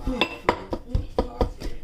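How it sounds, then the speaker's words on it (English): Fufu being mixed in a pot, close clanks and scrapes of a utensil against metal in an uneven rhythm, about half a dozen knocks, with no clear speech. "now I'm gonna mix my fufu"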